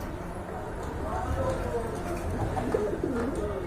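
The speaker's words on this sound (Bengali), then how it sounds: "খুব ভালো ডাকে কবুতরটা এই যে দেখেন" A pigeon kept for sale coos at close range, soft low calls repeating through the clip while someone talks over it.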